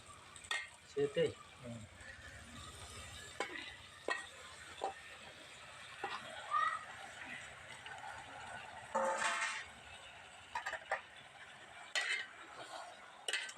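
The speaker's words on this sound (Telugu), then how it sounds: "మనం మటన్ గ్రేవీ కర్రీకి ఉల్లిపాయ ముక్కలు అయితే ఇలా బాగా ఫ్రై అయిపోవాలి బ్రౌన్ కలర్లోని" Onion pieces and mutton fry in a pan for a home-cooked mutton gravy curry. Soft sizzling continues under occasional stirring scrapes and clinks of a spoon against the pan, with quiet speech now and then.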